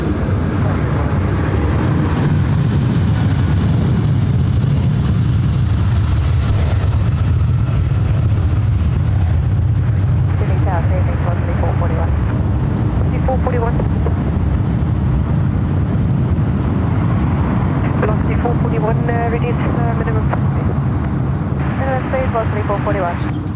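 Airliner landing at Sydney Airport, a continuous loud roar of jet engines that swells and shifts as it flies past close by, with people talking over it in the second half.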